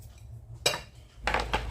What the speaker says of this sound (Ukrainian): Я очищаю сіль. Ось так.